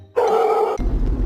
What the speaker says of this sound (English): So she usually barks at other kids?